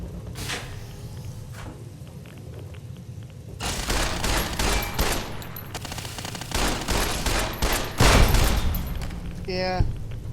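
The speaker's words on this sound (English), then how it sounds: "Commencing attack on hostile target. Firing weapon." Gunfire from a weapon in Fallout: New Vegas hardcore mode, bursts of rapid shots and booms that start after a quieter stretch and build in loudness, ending in a short metallic rattle.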